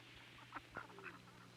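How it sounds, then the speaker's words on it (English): Ducks feeding on a spring pond give a few faint, short quacks, spaced over a quiet background. "On the water, ducks are searching for food."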